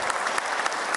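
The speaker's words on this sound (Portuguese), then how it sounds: "Uma salva de palmas e muito obrigado pela presença" Crowd applause fills a formal solemn session hall, a thick continuous wash of many hands clapping at once, brief and fairly loud.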